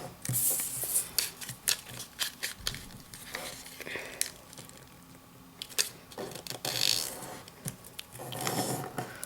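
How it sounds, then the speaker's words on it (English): Crisp, close rustling and creasing of paper being folded toward a center crease for an origami ninja star, in irregular bursts of rubbing and crackling. "Now fold the edges to the center crease."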